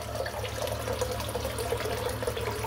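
Tap water runs steadily into a sink as a stainless safety razor is rinsed under it, a continuous close hiss and splash with no pauses.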